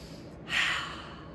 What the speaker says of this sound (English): Take a nice big deep superhero breath